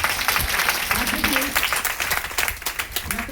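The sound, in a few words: audience applause for Ratna Madam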